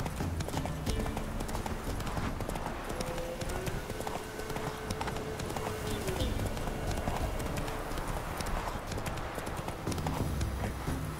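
Roach, the horse in The Witcher 3 Wild Hunt video game, gallops with rapid, steady hoofbeats under dense game music and ambience, close and continuous.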